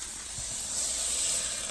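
Burger patty dropped onto a hot pan for a doughnut-bun burger, giving a steady, loud hiss and sizzle that swells slightly and holds without pause.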